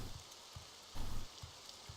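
Modded rain falls in the video game Morrowind, a soft, even hiss of rainfall with faint drop patters and a brief swell, steady and fairly quiet throughout.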